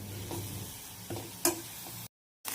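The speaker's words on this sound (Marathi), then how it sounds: "आता ह्या कांद्यासोबतच मी तिखट परतून घेते।" Quiet sizzle of chili powder frying with onions in a pan, with a few soft stirring scrapes and a light clink over the steady hiss, then a brief drop to silence.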